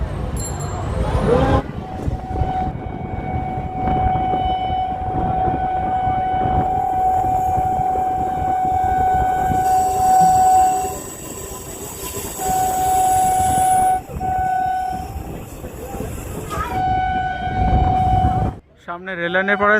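A train on the Krishnanagar–Sealdah route in West Bengal rumbles along steadily with rattling wheels, and a long sustained horn-like tone sounds over the noise, loud and close throughout.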